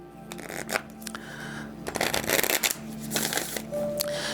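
Astro Star tarot cards shuffled by hand, a run of soft papery riffles and slaps at close range, steady through the stretch with no voice.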